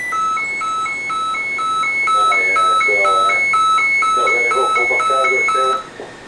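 A loud, repeating electronic beeping radio distress alarm on an offshore platform pulses in a fast, steady rhythm, with a voice speaking underneath before it cuts off.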